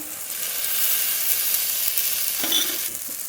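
A paste of chilli, coriander and cumin frying in a pan, with a loud continuous sizzle and hiss up close and a small clink near the end.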